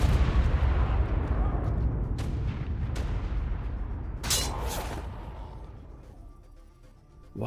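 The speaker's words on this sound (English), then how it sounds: "until I heard a bunch of loud explosions and decided to" Deep booming explosions rumble in the ARK video game, a heavy low roar with a few sharp blasts cutting through midway, then fading toward near quiet before a final thump.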